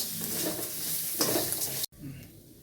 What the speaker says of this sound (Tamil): இதை ஒரு 2 நிமிஷம் சிம்மிலேயே வச்சு நல்லா வறுக்கணும்ப்பா. இதை நல்லா வதங்கணும்.